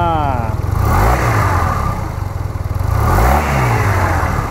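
A 2021 Yamaha TMAX 560 scooter engine revs close by in two rising-and-falling surges, each climbing in pitch and then settling back, loud and alone without talk.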